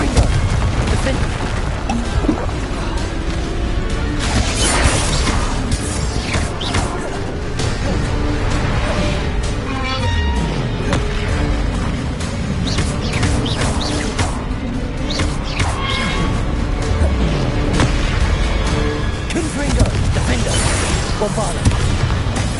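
Bombarda spell explosions cast in the Hogwarts Legacy video game, a dense run of loud booms and crashing impacts layered with other spell effects over 22 seconds, continuous and busy with no pauses.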